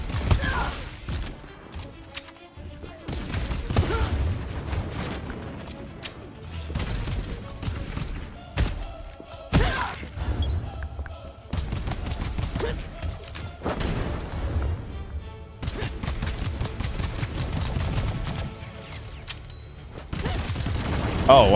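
Full-auto gunfire in the video game Pax Autocratica, loud rattling bursts repeating across the clip with short gaps, mixed with thuds and mechanical clatter while a voice talks intermittently.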